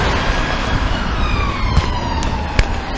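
A police car siren wails continuously and loudly, its steady tone sliding slowly downward through the whole stretch with a couple of sharp knocks.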